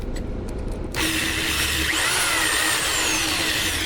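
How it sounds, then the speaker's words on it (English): A power drill with a masonry bit grinds steadily through a cinder block wall of a house, loud and close, starting after a brief quieter moment and holding a continuous harsh whine. "with a combination of drills and drill bits, I was able to get through my cinder block wall here"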